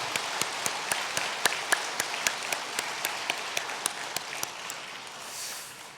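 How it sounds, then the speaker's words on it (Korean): A church congregation claps together in a steady, even rhythm, the beats crisp and regular for several seconds before fading out. "우리 박수로 한번 격려해 주시면 좋겠습니다."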